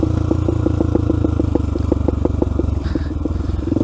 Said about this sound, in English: Hear those pop, pop, pop, pop, pop, pop, pop, pop.